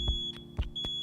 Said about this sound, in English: When testing your smoke detector, you want to make sure that you push the test button.